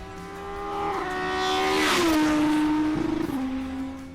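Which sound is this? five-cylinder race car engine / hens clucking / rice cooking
five-cylinder race car engine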